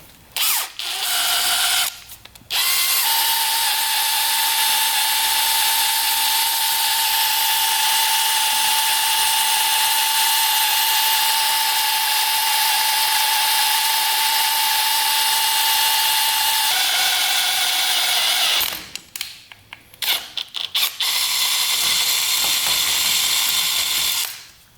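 A power drill bores into stuck screws on a rebuilt three-wheeler, whining high and steady for a long stretch, with short stops and restarts at the beginning and near the end. It is loud and close with no talk.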